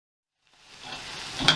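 Chopped peppers sizzle in a hot pan as they are stirred for chicken chasseur, the frying hiss rising from quiet and then holding steady, with a brief louder scrape-and-hiss burst near the end.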